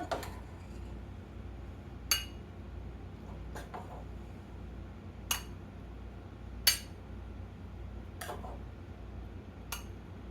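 A serving bowl is taken out among dishes, with a handful of sparse, crisp clinks and taps of crockery spaced several seconds apart over a faint room hum.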